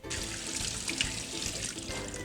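Ginger root rinsed under a running kitchen tap, a steady close splash of water into a sink for about two seconds, with no talking.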